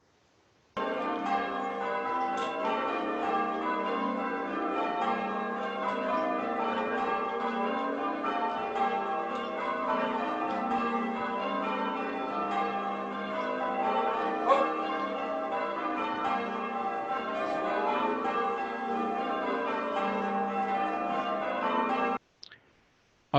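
Church bells of St Cyriax, rung by hand by change ringers, pealing in a continuous tumbling sequence of overlapping strikes for about twenty seconds, heard moderately distant and alone before stopping abruptly.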